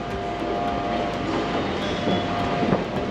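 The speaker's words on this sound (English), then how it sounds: "And we catch the train to" A commuter train to Oeiras, stopping at Belém, Portugal, rumbling steadily throughout with a continuous low roar and faint rail clatter, heard from inside or close by, with no talking.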